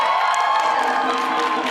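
A live audience at an Amnesty event in St. Louis cheers and whoops in a short, loud, high-pitched burst that holds steady from start to finish.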